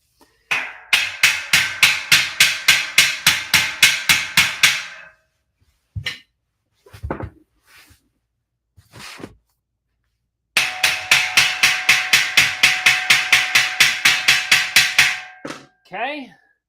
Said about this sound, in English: Let me get a hammer.